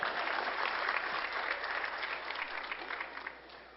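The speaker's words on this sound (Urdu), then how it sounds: "چلیں تالیاں بجا دیں اس کو پلیز" A studio audience claps at a cricket interview, a dense, even burst of applause that holds steady and then tapers slightly toward the end, with no talking over it.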